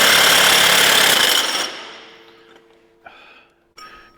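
A loud Milwaukee impact tool hammers a six-point socket on a cab-over truck hub for about a second and a half, then trails off, followed by two short, sharper bursts near the end.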